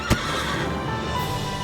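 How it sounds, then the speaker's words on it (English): On a ranch, a horse gives one short, loud neigh near the start, followed by a steady low background hum. "He's just really good at being a horse on this ranch."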